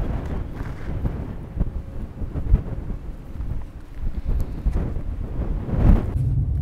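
Strong gusting wind in the mountains near a ski resort above a Russian Arctic town, buffeting and rumbling with low roaring surges that rise and fall throughout.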